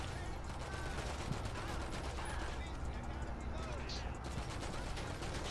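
Rapid video game gunfire crackles in dense, sustained bursts throughout, mixed with steady background noise and game sounds, with no clear pauses between shots.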